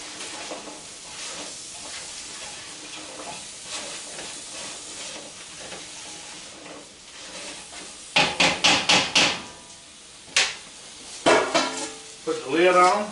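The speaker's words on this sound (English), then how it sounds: "I've been stirring these vegetables around for roughly about 10 minutes now." Vegetables for chicken jambalaya sizzle softly in a hot pot, then a spoon clatters and scrapes against the pot in a quick series of sharp knocks, followed by more scattered scraping.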